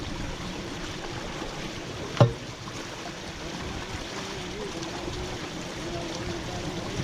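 Water rushes steadily through a torn-down beaver den, a constant close stream murmur with one brief knock partway through and no voices.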